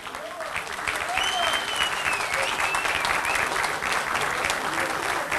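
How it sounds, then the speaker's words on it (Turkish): Loud, dense applause from a large crowd at the opening of a Trabzon Days event, steady clapping filling the whole stretch with faint voices and whistles mixed in. "Evet, alkışlarla."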